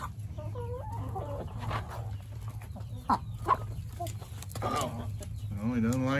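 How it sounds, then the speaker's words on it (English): Chickens cluck and murmur close by in a series of short calls, with a rooster's rising cry near the end over a low background hum. "the rooster's in the house"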